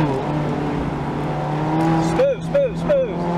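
A car running an autocross course, its engine holding a steady drone with pitch swoops as it revs and turns, while a voice talks over it.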